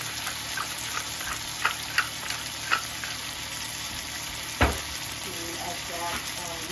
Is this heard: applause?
no